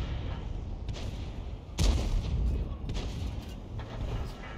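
A Hummel self-propelled artillery gun in a video game fires once, giving a single deep boom with a rumbling tail amid low battle background noise.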